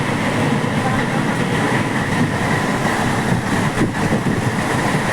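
Passenger train travelling on the Angul–Puri line, heard from inside as a loud, steady rumble and rattle of wheels on track that holds without pause throughout.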